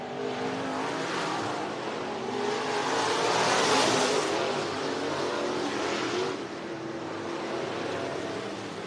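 Race cars roar around the dirt track at Cottage Grove Speedway in Cottage Grove, Oregon, engines swelling loudly as a car builds speed down the back straight into turn 3, then easing off, a continuous near roar.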